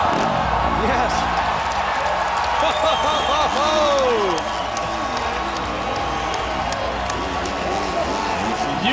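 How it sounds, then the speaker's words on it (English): A large crowd at the Monster Energy Cup, a supercross and freestyle motocross event in a stadium, cheers and whoops continuously with applause, loud and sustained, while an announcer talks over it. "You can hear the crowd."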